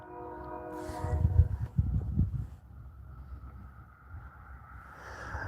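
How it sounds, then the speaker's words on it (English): A train rumbles past in a low, swelling roar that peaks briefly then fades into a steady distant rolling hum with windy noise. "I think the trains are done now."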